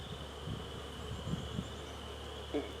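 Honey bees buzzing around an open hive during a spring inspection, a faint steady drone with a few nearer passes of single bees.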